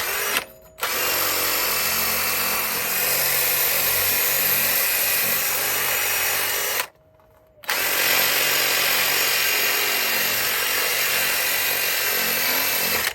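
A power tool cleans the brake hub of a Mercedes-Benz CLA during a brake pad and rotor change, whirring loud and steady at close range for two long stretches separated by brief pauses, with no speech.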